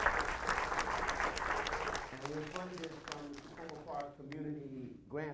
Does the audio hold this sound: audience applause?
yes